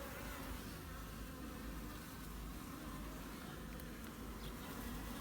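Honey bees buzz steadily around a hive during a pollen flow, many of them returning with pollen on their legs. The dense, continuous hum stays close and even throughout, with no talking over it.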